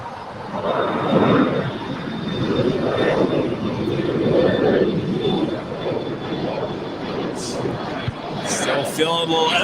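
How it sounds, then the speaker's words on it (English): Turkish Airlines Boeing 787 Dreamliner departing on the south side of LAX, a broad, distant jet engine roar that swells and fades, with someone talking over it. "We do see the Turkish Airline Dreamliner now making her way down for a departure here on the south side."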